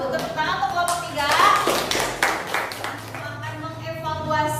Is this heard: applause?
yes